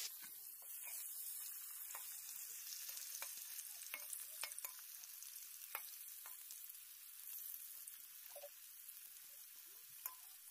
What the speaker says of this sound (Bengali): ভালো করে আলুটাকে আমি ভেজে নিব, একবারে লাল লাল করে ভেজে নিব